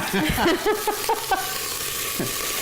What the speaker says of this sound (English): Okay, so the meat is nicely browned. Ooh, and it's seared.